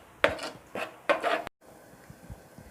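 Ground paste stirred into onion and tomato in a pan for a country chicken curry, heard as three scraping, rubbing strokes of a spoon against the pan, close and fairly loud, followed by faint soft clinks.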